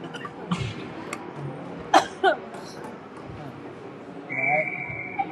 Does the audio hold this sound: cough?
yes